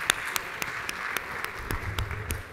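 Applause for panelists on stage at a MENA venture capital event, a moderate wash of clapping with a few sharp, isolated claps standing out, and a brief low rumble of movement near the end.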